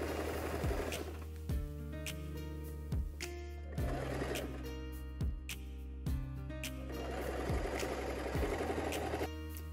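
A sewing machine top-stitches an elastic skirt waistband in steady close bursts, its motor whirring with rhythmic needle clatter and brief pauses between runs.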